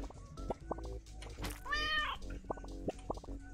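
A cat meows once in Turnip Boy Commits Tax Evasion, a short rising game cry in the middle, set among plinking musical notes and small game effects.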